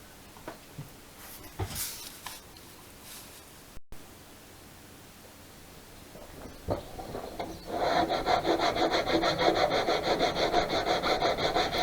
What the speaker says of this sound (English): running it down along the edge of the batten and cutting it down to about half the thickness of the plywood at the end of the plank.